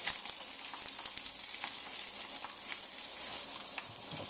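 Trout fillets sear in a hot pan, giving a steady, close sizzle with frequent sharp pops and crackles throughout.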